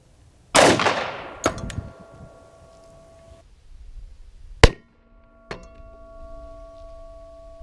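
A Glock 36 fires a .45 ACP round at a Kevlar helmet at an outdoor range. One sharp, loud report with a ringing tail is followed by several more distant, sharp cracks and metallic clangs spaced seconds apart.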